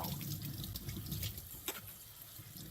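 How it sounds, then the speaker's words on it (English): Running tap water pours over fresh mushrooms being rinsed in a sink, a steady close splashing stream with a few small drips and knocks, and no one speaking. "the best thing to do is wash the mushrooms up right before you're ready to use them"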